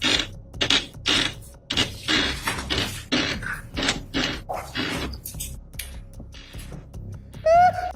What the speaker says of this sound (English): Why is he making the chair squeak,